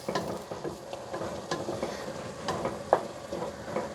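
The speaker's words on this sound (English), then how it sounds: "So this is starting to boil" Potatoes boil in a pot of corn chowder with a steady bubbling, pattering simmer and occasional louder pops, close and continuous, with no voices.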